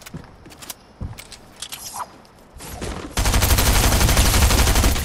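Machine pistol in the Fortnite video game, first a few scattered game sounds and short shots, then a sustained loud rapid burst of automatic fire filling the last two seconds.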